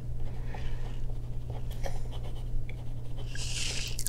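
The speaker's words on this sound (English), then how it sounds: "I'll write that down." Pen writing on paper, heard as soft scratchy strokes set in a quiet room over a steady low hum, with a brighter burst of scribbling near the end.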